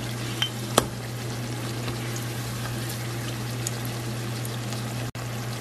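Cod fish fritters (bacalaitos) fry in hot oil with a low, steady bubbling and faint crackle, joined by a couple of sharp clicks and a brief dropout near the end, with no talking.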